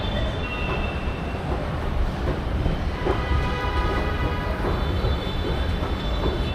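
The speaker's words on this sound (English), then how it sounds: "The metro of Jaipur is slightly on the slower side" A Jaipur metro train running between Mansarovar and Badi Chopad gives a steady loud rumble of wheels and carriage noise heard from inside the car, with faint high squeals and rail clatter throughout.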